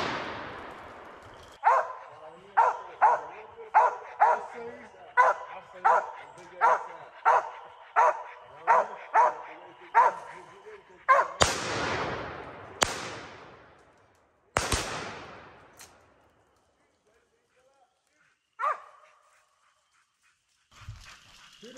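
A hunting dog barks during a squirrel hunt by the Pearl River, about a dozen evenly spaced loud barks, then several sharp gunshot-like cracks and a few scattered sounds, with people talking at times.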